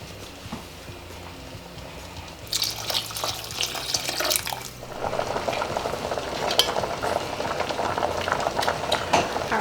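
A pot of rice that has boiled down takes on more water. A quiet simmer gives way to louder splashing and pouring, then a busy bubbling and crackling boil continues steadily up close.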